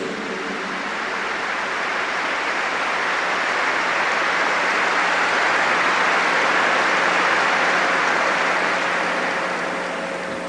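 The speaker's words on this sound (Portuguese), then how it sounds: "Give the Lord a big clap." A church audience at a healing service with Padre Rufus claps together in a dense, loud, continuous wash of applause that swells in the middle and stays steady throughout.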